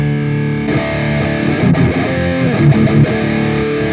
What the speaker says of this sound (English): dial in a patch featuring the Friedman HBE amp on the Ampero and see if we can get some of that heavy tones in